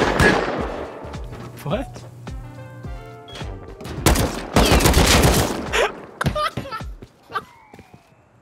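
Automatic gunfire rattles in Rust, with rapid bursts of shots, some loud and close, mixed with other game noises. A voice speaks briefly partway through.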